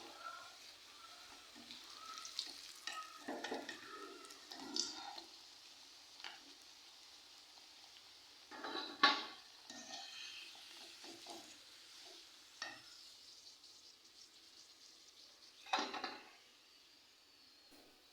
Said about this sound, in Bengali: এই যে দেখেন কলাগুলো ভাজা অনেক মুচমুচা হয়েছে